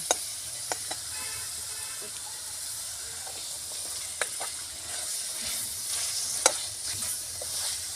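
Steady sizzling and hissing of chicken frying in spice paste and oil in a hot pan over a wood-fired stove, with occasional sharp crackles and pops, no voices.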